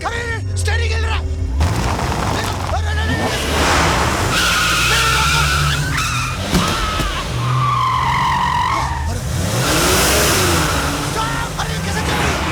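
A car in the Hindi film Tarzan The Wonder Car starts and drives off, with loud tire skids and engine revving amid clattering impacts, while people shout over it throughout.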